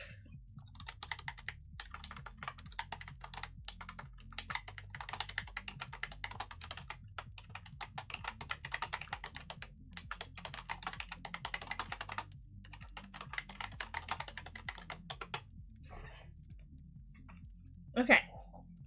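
Steady bursts of keyboard typing with sharp mouse clicks, fast irregular tapping close to the mic that pauses briefly, then ends with a louder click near the end.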